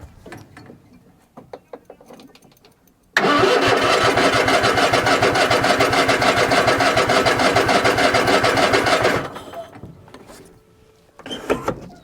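A Cub Cadet XT1 ride-on mower engine cranks and catches, then runs at a loud, steady idle close by for several seconds before shutting off. Light clicks and handling noises come before and after.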